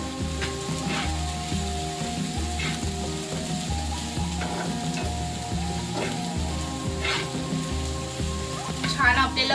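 Chopped onion fries on a tawa griddle for a dried bombil chutney, giving a continuous close sizzle with a steady tonal background beneath it and a brief rise in crackle at the end.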